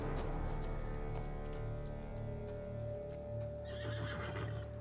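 A horse in The Witcher 3 video game neighs and clip-clops with steady hoofbeats, close and clear over a sustained game music bed.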